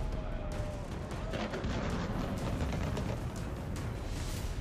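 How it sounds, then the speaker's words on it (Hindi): A series of sharp explosive blasts from the controlled demolition of a 5,000-foot-long bridge in China crack and rumble in quick succession, followed by a heavy, sustained roar of collapsing debris. "साल पुराने पुल को कंट्रोल ब्लास्ट से उड़ाया गया।"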